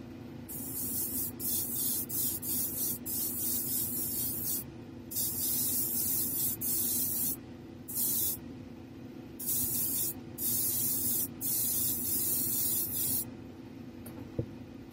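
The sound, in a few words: airbrush spraying mist coat of paint on model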